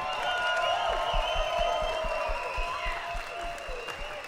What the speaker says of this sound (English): give your round of applause for your top eight SNK World Championship